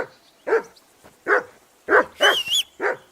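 Several sharp barks from a dog in the medieval world of Kingdom Come Deliverance 2, coming in separate bursts with short gaps, close and fairly loud, no talking.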